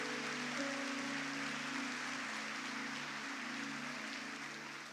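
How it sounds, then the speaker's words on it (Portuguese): A church congregation claps loudly and steadily in a dense, continuous wash, with a low sustained hum underneath. The clapping fades slightly toward the end. "Se é para Jesus, aplauda bem forte."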